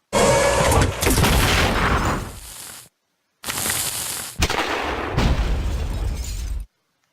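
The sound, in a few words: plasma artillery explosions in the video game Battle Nations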